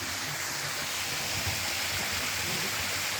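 Water in a stream or small waterfall, running low in the dry season, rushes in a steady, even wash with no voices.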